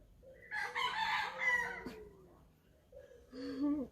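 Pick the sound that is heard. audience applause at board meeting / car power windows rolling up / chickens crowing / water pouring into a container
chickens crowing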